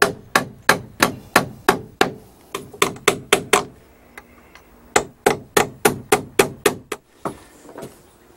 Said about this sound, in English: now I'm going to put this piece of 1x10 in and nail it in place